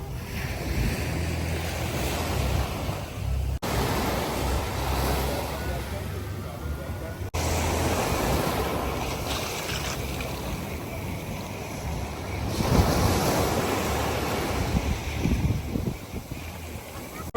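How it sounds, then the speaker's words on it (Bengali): Sea waves roaring onto a white sand beach on the Mexican gulf coast, a loud, continuous wash of surf with swelling surges and heavy wind buffeting the microphone. "সাদা বালুর এই বালুকা বেলায় অসাধারণ সুন্দর পানির সাগরের শব্দ, গর্জন।"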